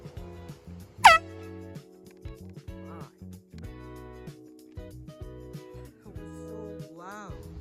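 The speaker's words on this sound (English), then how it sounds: "got my big air horn," A big, very loud air horn gives one sharp blast near the start, towering over a background of ongoing music-like tones and other sounds.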